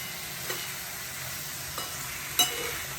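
Puffed rice being stirred with tomatoes in a hot pan: three soft scraping stirs spaced across a steady low sizzle, the last one sharper with a brief clink, close and fairly quiet.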